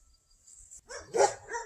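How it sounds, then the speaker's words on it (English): Dogs bark outdoors near a garden, a short burst of a few yaps after a quiet stretch with insect chirps in the background. "If the dogs want to continue to bark in between our sessions"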